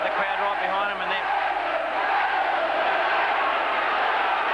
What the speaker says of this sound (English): They've got the crowd right behind them